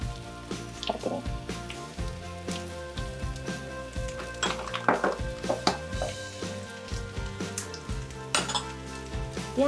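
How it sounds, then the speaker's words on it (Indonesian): Metal utensil scraping and clinking in a pan as tteokbokki rice cakes with fish cake and sesame oil are stirred, with a faint sizzle under the repeated close taps and no talking. "Kemudian diaduk lagi."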